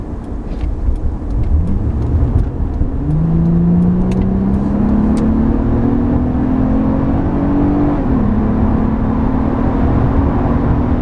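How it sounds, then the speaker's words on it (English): A 2008 Acura TL with a 3.2 liter V6 accelerating hard on the road, engine note rising steadily through a gear, then a brief dip at the shift before climbing again, loud and continuous from inside the car. "Let's see if I can get in acceleration run here"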